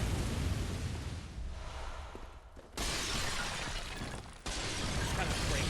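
Oil lanterns break in Bloodborne with two abrupt shattering crashes a couple of seconds apart, each flaring into loud noisy debris over steady game ambience.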